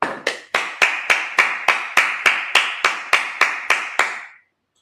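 A Sabbath service congregation claps in unison, about fifteen sharp, evenly spaced claps in a steady beat, loud and close, then stops abruptly.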